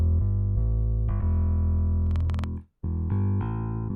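A virtual bass in MODO BASS runs through a distortion-style preset effect, a sustained buzzy line that steps through pitches, thins out, cuts off briefly, then returns loud and close.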